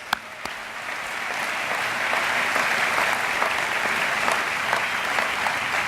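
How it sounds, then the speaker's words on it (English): Applause from the audience at an MBA commencement ceremony, a dense, sustained clapping from a large crowd that swells after the first second and keeps going steadily. "So just give yourselves a round of applause"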